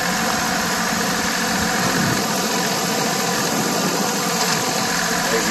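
A Deutz Allis 5215 riding mower with a diesel engine, hydrostatic transmission, 60-inch deck and three-point hitch idles steadily, a close, continuous rattly drone with a faint knocking texture and no talk.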